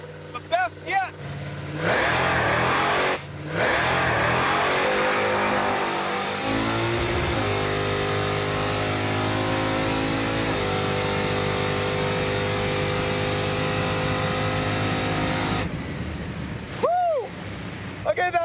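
A turbocharged Impala drag car engine roars through a full pass, a loud sustained howl rising in pitch through gear changes before cutting off, with voices at the start and end.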